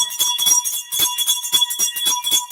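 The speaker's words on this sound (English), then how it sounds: "The bell is back in action." A wrestling ring bell clangs in a rapid, repeated series of bright metallic strikes, loud and close, with no talk over it.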